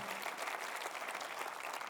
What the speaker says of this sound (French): Est-ce qu'on peut applaudir la chorale Nouvelle Vie qui était extraordinaire la semaine dernière, cette semaine?